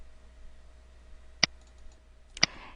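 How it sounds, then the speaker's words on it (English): Two sharp, quiet computer mouse clicks about a second apart, crisp and isolated against near silence. "I'm going to double click on this color box."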